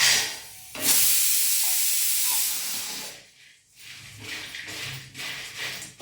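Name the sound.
vadiyalu frying in hot oil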